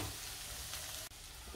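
Garlic, ginger and green chillies sautéing in a pan for crab gravy, a continuous close sizzle that is soft overall with one brief scrape near the end.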